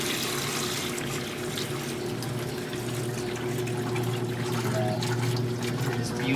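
Water pumped out of a boat motor being unwinterized, a steady continuous gush and splash alongside the running outboard engine hum, loud and unbroken throughout.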